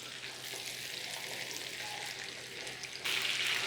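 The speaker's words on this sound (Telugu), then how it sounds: "సో లో ఫ్లేమ్లోనే మనం ఫ్రై చేసుకోవాలి." Semolina-coated fish fries in oil on a low flame with a soft, steady, rain-like sizzle that swells a little louder near the end.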